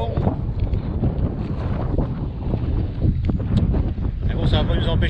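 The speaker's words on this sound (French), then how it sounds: "du vent à mort" Strong wind buffets the microphone on a lake during pike fishing at Lac du Der, a steady low roar with gusts swelling throughout, loud and close, with faint water or boat sounds beneath.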